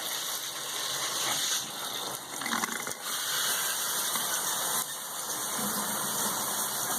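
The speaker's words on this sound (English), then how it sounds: "And I'm going to turn the shower on." Shower water running in a house with a weak well pump supply, a steady hissing gush that holds constant throughout, with a faint mechanical hum beneath and no talking.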